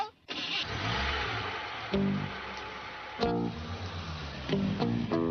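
A cartoon car engine cranks and turns over with a low, rumbling idle, and a few sharp mechanical clunks punctuate the running motor.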